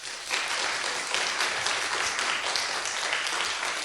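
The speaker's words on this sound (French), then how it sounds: "Mesdames et messieurs, je vous demande de l'applaudir." An audience applauds a guest at a live French science talk show, a dense, steady burst of clapping heard close and alone for a few seconds.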